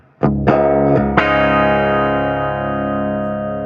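Electric guitar on a clean setting through a Marshall amplifier, with a Strymon Sunset Drive pedal in the chain: a few quick plucked notes, then a loud strummed chord ringing out and slowly decaying, no talking.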